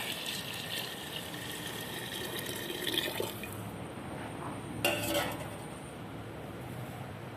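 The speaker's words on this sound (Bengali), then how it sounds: "গরম জল দেব হাঁড়ির মধ্যে।" Hot water is poured into a cooking pot holding washed rice, a soft steady splashing stream with a faint trickle, fairly quiet, and a brief clatter partway through.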